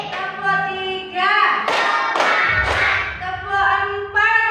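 Several sharp hand claps land in a quick rhythmic burst during a second-grade Indonesian classroom clapping routine, with a chanting voice before and after the claps.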